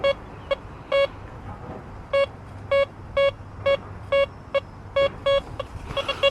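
A DeepTech Onyx metal detector on a river foreshore gives a run of about a dozen clear, sharp electronic beeps. They repeat at an uneven pace over faint background noise, with no talking.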